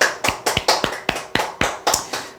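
A seminar audience claps in a quick, evenly spaced rhythm, about ten crisp, close claps over a couple of seconds with no talking.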